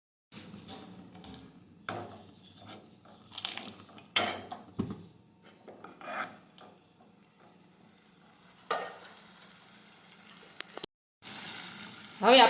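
Tadka of cumin and spices for dal sizzling in oil, with bursts of crackle and stirring clatter in the pan broken by quieter gaps and a sharp hiss near the end.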